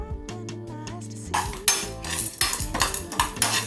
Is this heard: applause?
no